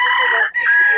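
A Sweater bloodline gamefowl rooster at a market gives a loud, close, strained crow that breaks briefly midway and then carries on.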